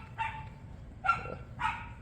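Dogs behind a backyard fence bark three times, each a short, moderately distant woof spaced about half a second to a second apart, over a low steady background hum.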